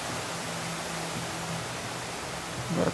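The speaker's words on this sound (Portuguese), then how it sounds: "o barulho da cachoeira vai ajudar pra caramba" Rushing waterfall in the video game Days Gone, a steady, dense roar of water filling the whole span at an even level, with a faint low hum running beneath it.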